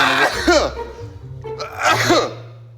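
A person sneezes twice, each a sharp explosive burst with a drawn-in breath before it, close and loud, with brief voiced sounds in between.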